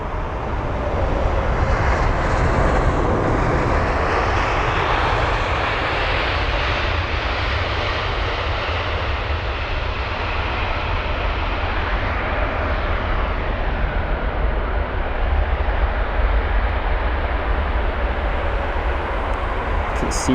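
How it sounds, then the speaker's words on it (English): A Korean Air Boeing 777-300ER on approach to London Heathrow roars steadily for about twenty seconds, a broad, loud jet-engine rumble and whine that holds level throughout, with no talk over it. "This is going to be Korean Air and their 777-300ER."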